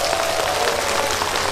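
A festival crowd at a traditional Korean music festival closing ceremony claps loudly for local public officials and police staff, a short burst of dense, sustained applause filling the space.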